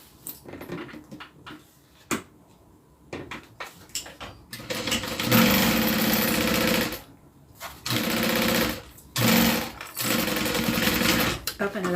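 A sewing machine stitches a lining piece onto a zipper for a small zip-around wallet, running in several loud bursts of rapid mechanical whirring separated by short pauses and handling noises.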